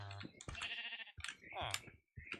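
Donkey in the Minecraft video game gives a couple of short, raspy braying bleats with brief pauses between them, close and clear with nothing else around.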